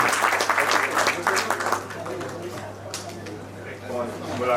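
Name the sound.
audience applause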